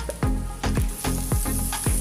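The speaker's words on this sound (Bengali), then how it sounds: "দেখো আমার পেঁয়াজগুলো ভাজা করা হয়ে গেছে এবার এর মধ্যে আমি দিয়ে দিচ্ছি টমেটোটা" Onions and tomato fry in hot oil in a pan, a loud continuous sizzle broken by rhythmic scraping stirs about every half second, with no one speaking.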